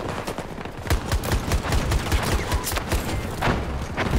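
Shotgun fire in the Battlefield 2042 video game, a rapid string of loud, punchy blasts close by, overlapping with other gunfire in a dense, chaotic firefight.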